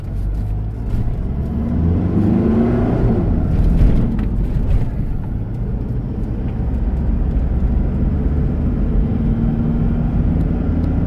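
Toyota Hilux, after a gearbox transplant, rolling over a speed bump: steady engine drone and cabin rumble with a brief thump and rising strain midway, close and loud, no talk.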